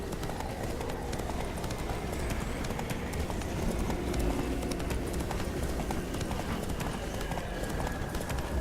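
Horse hooves gallop in The Witcher 3, a fast, steady clip-clop rolling on without a break for the whole stretch, close and fairly loud over the game's ambient sound.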